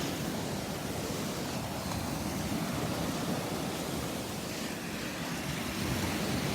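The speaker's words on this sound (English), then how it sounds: "I love the sounds of the waves" Morning ocean surf on the beach at Delnor-Wiggins, a continuous broad roar of breaking waves with some wind, steady and fairly loud throughout with no voices.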